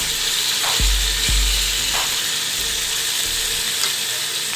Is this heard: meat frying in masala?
yes